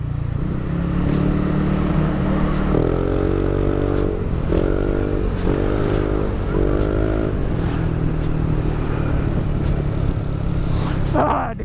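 A Yamaha Aerox 155 VVA scooter rides along Bogor roads, its engine droning steadily with several rising rev bursts in the middle, close and loud, with occasional wind and road noise.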